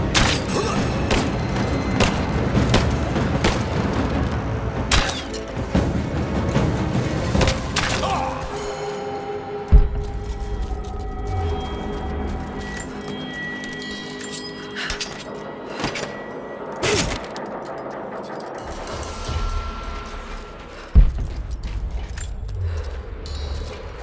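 Gunfire and heavy explosions in the Xbox One game Rise of the Tomb Raider, with dense continuous bursts of shots and loud booms, sharp heavy impacts at intervals, and a busy layered battle din throughout.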